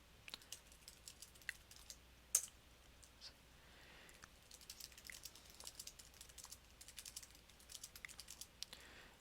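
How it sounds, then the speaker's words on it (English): Typing on a computer keyboard late at night: soft, irregular key clicks tapping along continuously at a quiet, close level, with no voices. "It's weird talking what I'm going to be typing"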